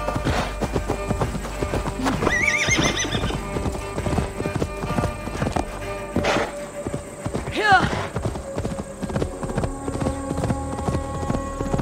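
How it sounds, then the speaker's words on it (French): In Assassin's Creed Valhalla, a horse's hooves clip-clop in a quick, steady galloping rhythm close by, broken by a couple of loud whinnies, while someone talks over part of it. "Comment on fait pour appeler le cheval encore?"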